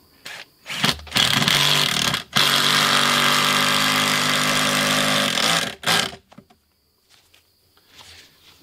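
Power driver with a Torx bit sinking 5-inch screws into large wraparound stairs for a shipping container cargo door, a loud sustained whir of a few seconds after brief bursts, then fading to quiet.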